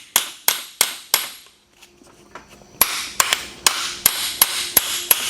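Hammer strikes drive a star nut into a bike fork steerer tube on an Ozark Trail FS.2 build. Four quick metallic blows come first, then a short pause with light clatter, then a faster run of about eight ringing hits, close and loud.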